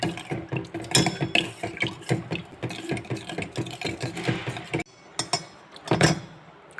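A ragi and milk mixture stirred in a pan over a low flame, a spoon scraping and clinking against the pan in quick repeated strokes, with a short pause near the end, close and without talk.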